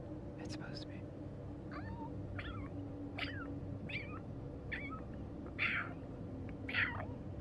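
A person imitates a baby cat with a series of small, quiet meows, roughly eight short high mewls spaced about half a second to a second apart, close to the mic over a low steady background hum.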